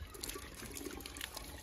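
Water from a pump overflows a full rooftop tank, a steady close splashing and trickling wash running without a break through the brief moment.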